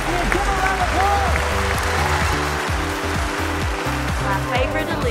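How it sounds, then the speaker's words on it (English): An audience claps after a card trick at a magic show on a cruise, steady loud applause lasting throughout, with voices and music mixed in underneath. "Give a round of applause."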